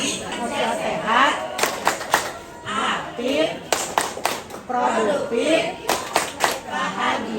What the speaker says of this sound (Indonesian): Yuk tepuk tangan saya dulu ya sebelum kita masuk ke materi